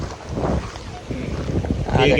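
Gusty wind buffets the microphone in a rough, low rumble while someone talks.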